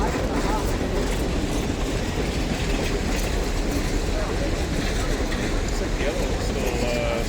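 Union Pacific Big Boy 4014 steam locomotive pulls a long train at speed, giving a dense, steady rumble with rail clatter. Voices talk faintly in the background.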